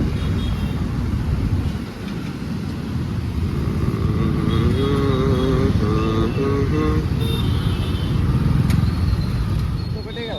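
Busy office-hour road traffic in Hyderabad, a continuous wash of car and motorcycle engines with passing vehicles and occasional horn-like tones, steady and fairly close throughout, with people talking underneath.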